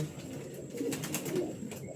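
Pet pigeons coo softly in their cage, a few low throaty calls over a faint background, quiet and close with no talk.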